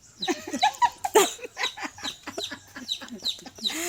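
Rapid, repeated chirping and clucking calls from birds nearby, a busy chatter of short notes with no talking.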